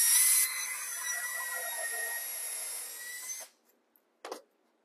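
A drill driving a countersink bit with a built-in depth stop whines steadily and close for about three seconds, then stops, followed by a brief short burst.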